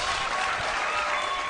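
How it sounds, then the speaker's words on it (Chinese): Audience applause at a televised singing talent show, a dense steady burst of clapping from a studio crowd, loud and close, lasting briefly without a break. "好，掌声鼓励"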